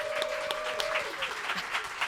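A live audience at a show held during a Dota esports major in Stockholm claps and cheers, a dense continuous wash of applause with a whistle and scattered shouts, fairly loud and close.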